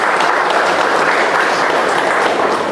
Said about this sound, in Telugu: వారి గట్టిగా చప్పట్లతో అభినందనలు తెలియజేద్దాం.